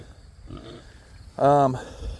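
A pig at a farm feeder lets out a single short, tonal grunt close by, with softer snuffling around it and a voice speaking nearby.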